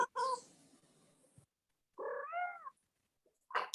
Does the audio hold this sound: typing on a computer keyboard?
no